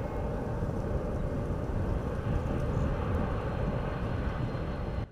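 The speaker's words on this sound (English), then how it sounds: "a chartered giant Antonov cargo plane carrying BioNTech's first six BioNTainers touched down at Kigali International Airport" A chartered giant Antonov cargo plane touching down at Kigali International Airport, a steady loud broadband roar of engines and rushing air that holds evenly throughout before cutting off abruptly.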